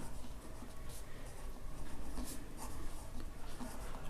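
A hand writes out a solution set for a class 11 linear inequalities maths exercise, giving a continuous scratchy stroking sound with short repeated strokes, close and fairly quiet, with no voice.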